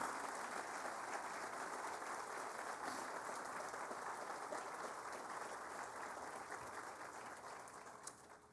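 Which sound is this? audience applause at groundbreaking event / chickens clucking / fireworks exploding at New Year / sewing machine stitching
audience applause at groundbreaking event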